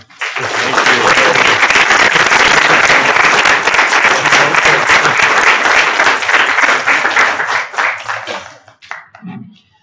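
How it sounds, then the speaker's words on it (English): Loud, sustained applause from an audience at a planetarium award presentation, dense clapping running nearly ten seconds before tapering to a few scattered claps. "Another round of applause."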